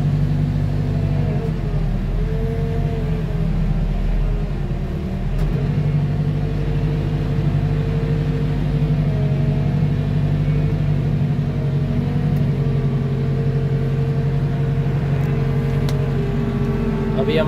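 Heavy diesel boom loader rumbles steadily as it reverses, engine droning low with slight pitch changes, a voice speaking in Hindi over it.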